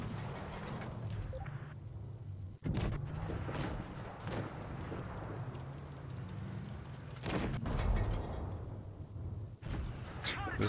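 Gunfire in a shooting video game, with repeated loud bursts of shots and blasts over a dense, continuous roar of battle noise, close and sustained throughout.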